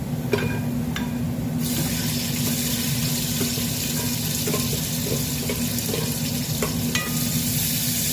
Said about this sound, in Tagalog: Ilalagay ko na po ang aking sibuyas.